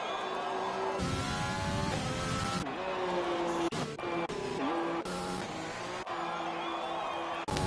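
Race car spinning out during the Abu Dhabi round of a racing video game, its engine screaming and dropping in pitch as tires squeal and skid, then revving again in bursts, loud and close with no talk.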